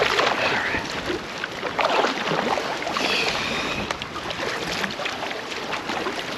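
Canoe riding rough winter water in strong wind: continuous loud rushing wind and splashing waves pressing against the hull, steady and close throughout with no pauses.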